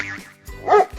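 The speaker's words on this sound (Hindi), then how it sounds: "भाई लोग खेसारी लाल के ई ह पहिला कुत्ता, पालतू कुत्ता" Pet dog giving a short bark and yelp, close and loud, a brief yippy sound over about a second.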